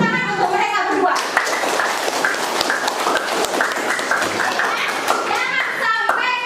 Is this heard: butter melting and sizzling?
no